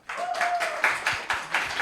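A youth congregation at a Sunday worship service breaks into applause, a brief burst of several rhythmic waves of clapping from a nearby group, with a voice briefly heard in the background.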